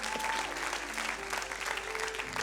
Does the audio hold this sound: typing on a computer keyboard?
no